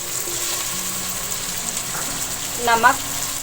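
Tomatoes added to ginger and garlic frying in a pan, a soft steady sizzle with a brief louder burst of hissing and clatter near the end, faint background hum.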